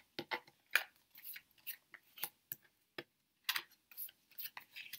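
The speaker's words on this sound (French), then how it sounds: "Donc on retourne les cartes." Marseille tarot cards being turned over on a table, giving soft, close card flicks and light taps in a loose irregular series, fairly quiet with brief gaps between them.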